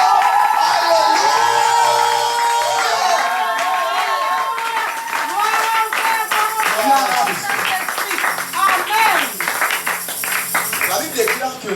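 A congregation at a French-language church service claps and cheers in praise, with whoops and shouts rising over rhythmic clapping while voices and sung tones carry on loudly through the whole stretch.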